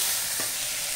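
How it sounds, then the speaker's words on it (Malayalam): Onions sautéing in a pan for egg masala, a steady soft sizzle throughout with a brief stir scrape near the middle, no voices. "അപ്പോൾ ഉള്ളി ഏകദേശം വഴറ്റി വന്നിട്ടുണ്ട്."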